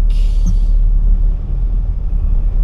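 Heavy road traffic in Quezon City: a loud, steady low rumble of vehicles close by, with a brief hiss at the start and no talking.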